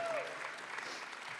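Brief burst of studio audience clapping on a talk show, dense and steady throughout, with a short whistle-like tone near the start and no clear talk over it.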